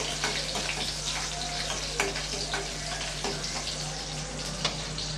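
Broken cashew nuts, seven or eight of them, fry in hot oil for hotel-style sambar rice, giving a steady close sizzle with scattered sharp crackles and a few clicks of stirring.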